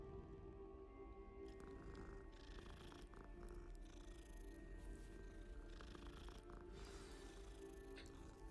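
A cat purrs steadily while being petted in the wizarding game Hogwarts Legacy, a low continuous rumble that runs quietly and without a break under faint background ambience.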